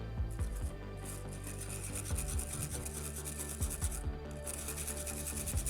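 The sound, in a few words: scraping colored cocoa butter through a sieve with spoon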